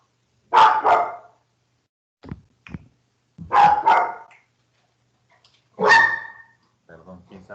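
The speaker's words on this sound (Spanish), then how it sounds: "quién sabe a quién le ladra, pero normalmente no se pone así, ha de estar alguien afuera" A dog barks insistently and close in three loud bursts of double barks with pauses between, plus a few softer sounds and faint room noise.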